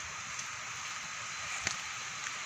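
A steady, full-bodied rush of water pours over rock at the Thanam Chen waterfall in Thailand, continuous and close, with one brief sharp knock partway through and no talking.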